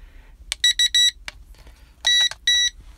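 A Propel Maximum X03 drone controller gives a series of sharp electronic beeps, a quick burst of three followed by a longer pair, loud and close in an otherwise quiet room.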